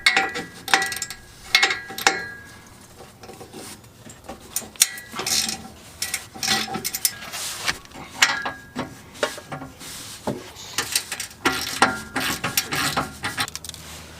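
Hand tools work on the resonator bolts of a 2015-17 Ford Mustang GT, giving irregular ratcheting clicks and metallic clatter in uneven bursts at close range, with no speech.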